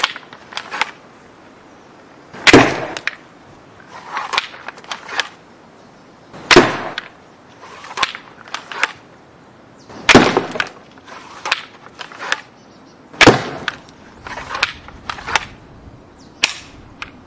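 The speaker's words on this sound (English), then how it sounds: "now we're gonna try to shoot them back into the box that Amazon used to" An Oreo cookie gun fires cookies into a cardboard delivery box: a series of sharp, loud snapping shots spaced a few seconds apart, each followed by lighter rattling thuds, no speech.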